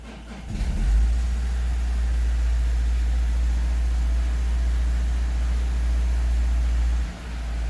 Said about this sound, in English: now I'm going to start the engine and see.